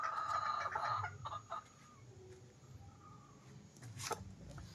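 Gamefowl rooster clucking at a game farm, a few close, raspy clucks early on followed by softer calls over quiet outdoor background.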